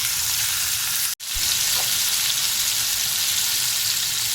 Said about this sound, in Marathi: टमाटे टाकूया